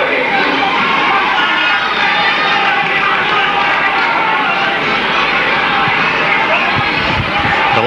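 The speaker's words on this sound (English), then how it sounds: "The crowd make fun of him." Rugby league crowd at a Swinton versus Salford match at Station Road, a dense, loud wall of massed voices jeering and shouting at a Salford player, steady throughout with no single voice standing out.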